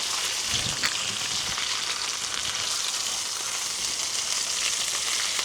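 A fish fillet sizzles steadily in a hot pan just after being flipped, a continuous bright crackling hiss up close with a few soft stirring bumps near the start.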